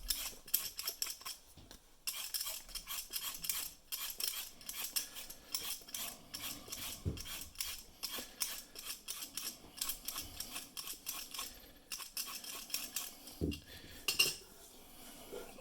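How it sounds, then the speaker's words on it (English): Potato peeled with a hand peeler at a kitchen prep station, a steady run of quick scraping strokes with light metallic clinks, close and fairly loud, with no talking. "we want to begin by peeling our potato"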